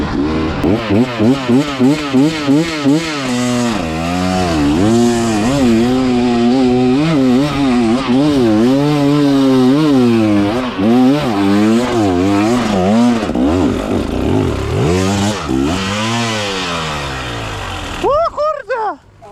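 A motorcycle engine revs hard and continuously at a cross-country rodeo event, the pitch rising and falling in repeated wavering sweeps for most of the stretch, loud and close, then cutting off near the end to a brief sharper rev.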